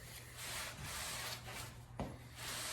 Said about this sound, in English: So now I'll just use what's left in the rag. I don't need to dunk it again. I'll just rub it out.